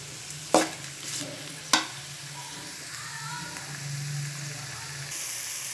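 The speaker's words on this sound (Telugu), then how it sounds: "తర్వాత కొంచెం బాగా ఫ్రై చేసుకోవాలి." Half-boiled beans and cauliflower frying in oil over a medium flame while being stirred, giving a soft, steady sizzle and hiss, broken by two sharp knocks of the spatula early on.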